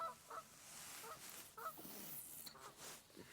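Geese honk repeatedly in short bursts at a moderate distance, layered over steady outdoor background noise.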